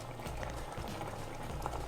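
A pot of collard greens with bulgur wheat simmers on a stove at medium-low heat, giving a quiet, continuous bubbling and gurgling.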